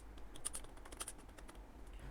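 Rapid keystrokes on a computer keyboard, a quiet run of light irregular clicks with no voices, as a phrase is typed into an online voter card form.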